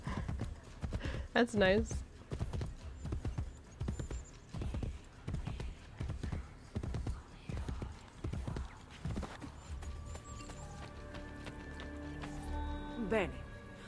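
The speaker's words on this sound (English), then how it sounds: "I appreciate the horse following me." Horse hooves clip-clop in a steady rhythm throughout a scene in the video game Assassin's Creed: Brotherhood, with a brief whinny early on and a person talking over the hoofbeats.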